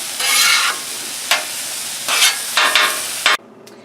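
Beef, broccoli, onions and mushrooms are stir-fried on a Blackstone griddle, with a loud close hiss and several sharp spatula scrapes. The sizzle cuts off abruptly near the end, and there is no talking.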